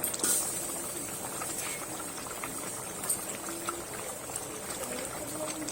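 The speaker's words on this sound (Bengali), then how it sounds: "দেখুন তরকারি আমার পুরো ফুটে গেছে" Vegetable curry bubbling away in a pot on the stove, a quiet, steady simmer with soft popping and patter throughout, close by and without talk.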